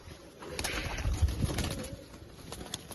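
Racing pigeons coo at a pigeon loft in a low, soft, murmuring stream, with faint wing flutters and light background rustle throughout.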